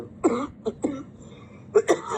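A few short, rough coughs and throat-clearing sounds close by, spaced irregularly with a small cluster near the end.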